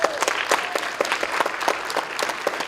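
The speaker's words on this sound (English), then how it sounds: "we get more applause for the money than we do for the academics" Audience applause at a school presentation breaks out as a loose, moderately sized burst of clapping, individual claps standing out in an uneven patter for a few seconds with no talk over it.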